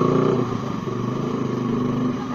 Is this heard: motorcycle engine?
yes